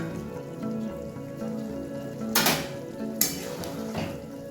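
A spoon stirring chilli fish gravy made with catla fish and thickened with cornflour in a pan, with a soft continuous sizzle and occasional scraping clinks of metal against the pan.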